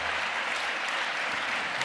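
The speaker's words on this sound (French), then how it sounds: "je crois qu'on peut encore l'applaudir" An audience at a Paris gala evening of engagement keeps up an even, continuous round of applause, fairly quiet and distant-sounding, with no talk over it.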